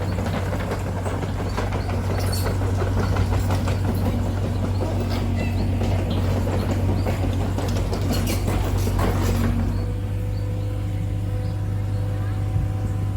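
An ATV engine runs with a steady low drone and rattling mechanical texture on a mountain trail in Southern Leyte, then settles to a smoother idle near the end, with voices talking over it.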